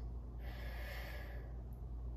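A single steady exhale from a person demonstrating normal breathing for flute playing, a soft breathy rush lasting about a second, close and alone without speech.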